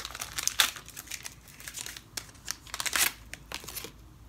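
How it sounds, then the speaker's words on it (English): An Instax Mini film package torn open along its dotted line, close crinkling and ripping of foil wrapper in short irregular bursts. "I'm gonna tear it open."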